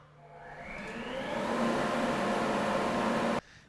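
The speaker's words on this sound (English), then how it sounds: "Make dust collection a breeze with the portable G1163P 1 horsepower dust collector today" A Grizzly G1163P 1 horsepower portable dust collector spins up with a rising motor whine into a steady loud roar, then shuts off abruptly.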